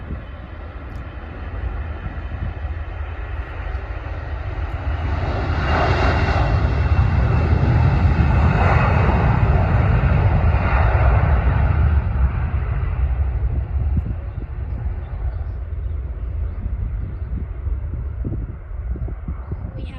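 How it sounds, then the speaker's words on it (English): A Jet2 Airbus A321 operated by Titan Airways takes off at London Stansted Airport, its engine roar swelling to a loud, broad peak midway, then slowly fading into a lingering distant rumble. "A321, taking off."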